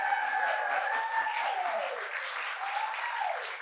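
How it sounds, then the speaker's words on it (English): An audience claps steadily and fairly loudly throughout, with some whistling or cheering riding over the applause. "A round of applause for Michelle Azevedo."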